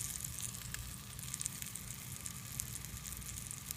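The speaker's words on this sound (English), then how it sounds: "As you can hear, the searing, you want the pan hot so that you get the sizzle up." Blackened fish searing in a very hot pan, a continuous bright hiss of sizzling oil with small crackling pops throughout, steady and close.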